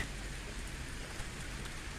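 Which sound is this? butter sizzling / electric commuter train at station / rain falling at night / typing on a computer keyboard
rain falling at night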